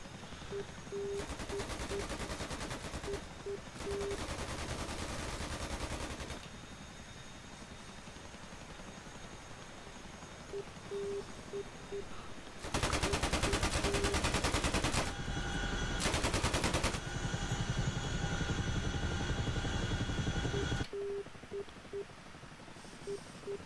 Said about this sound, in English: They're shooting from both sides